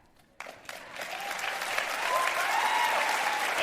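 A few scattered claps open the burst, then an audience's applause swells into a full, steady round that carries on to the end.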